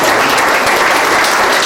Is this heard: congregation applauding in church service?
yes